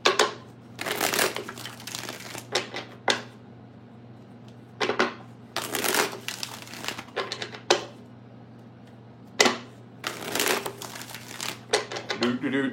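Tarot cards are shuffled by hand in several quick riffling bursts with gaps between them, close up over a low steady hum.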